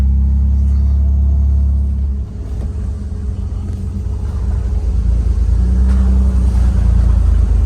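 A Toyota Hilux with an L67 engine swap crawls at low RPM, around 1100, its deep engine rumble steady and close, easing briefly partway through before building again, with no talking.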